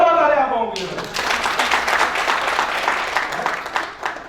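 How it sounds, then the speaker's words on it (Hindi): Hearty audience applause at a store meet in Indore follows a speaking voice. Many hands clap together in a steady, fairly close burst that lasts several seconds, and the voice stops as the applause begins. "वाह क्या जोरदार तालियां आप लोगों के लिए।"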